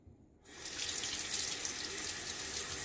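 Tap water gushes into a sink to rinse a Gillette Aristocrat Jr safety razor during a shave, starting abruptly after a brief quiet moment and then running loud and steady to the end.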